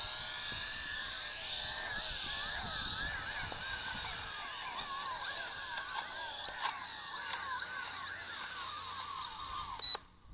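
Yizhan i8h Tarantula toy camera drone being landed in manual mode, a thin high whine of small propellers wavering in pitch throughout, ending with a brief knock as it touches down.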